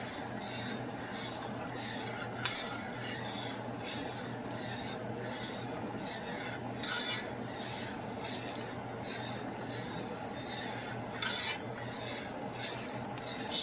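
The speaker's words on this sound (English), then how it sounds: "Stirring it well." A spoon scrapes and rubs steadily around a pot of red beans, a continuous close rasp under a low kitchen hum, with occasional sharper clicks against the pot's side.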